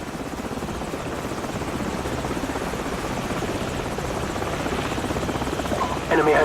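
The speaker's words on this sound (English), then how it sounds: "Enemy helicopters." Helicopter rotors in Call of Duty 4: Modern Warfare, a steady loud chopping thrum that fills the scene throughout, with a brief louder thump at the end and voices faintly under it.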